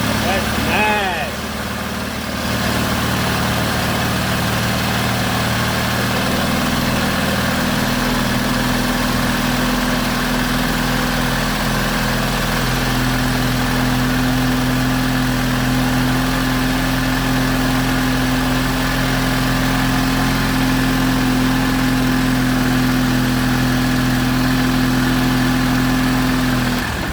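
A Honda N600 sedan, brought back to life after sixteen years sitting outdoors, idles steadily with a low, continuous hum and slight vibration, holding a constant loud drone for the whole stretch after a brief start.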